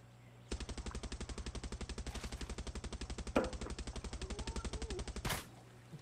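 Rapid automatic gunfire rattles in a long sustained burst at a steady fast rhythm in a video game, loud and close, with a brief louder crack partway through and an abrupt stop near the end.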